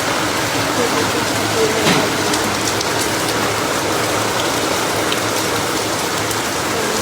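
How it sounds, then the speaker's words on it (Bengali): Steady rain falling outdoors during a cloudy morning, a dense continuous hiss of drops on surfaces with an occasional louder patter, close and even throughout with no clear talk over it. "আমাদের এখানে বৃষ্টি পড়া শুরু হয়ে গেছে, দেখবে দাঁড়া, এই দেখো বৃষ্টি পড়ছে"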